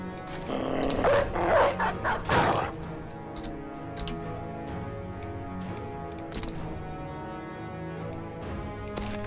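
A dog in the video game Battle Brothers gives a few sharp barks amid clattering battle noise, loudest early on before settling into quieter background sound.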